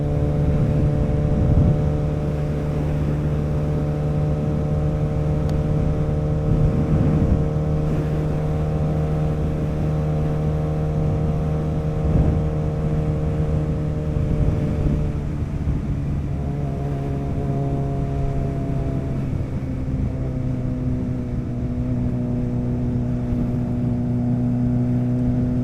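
Steady engine drone from a Suzuki Hayabusa motorcycle on the road, with a constant hum, wind rush, and a pitch that drops and shifts midway as the bike slows or changes gear.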